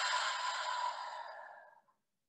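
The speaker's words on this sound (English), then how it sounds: "Exhale out." A slow, audible yoga exhale, close and breathy, steady at first and then gradually fading out to silence after about two seconds, with no talking.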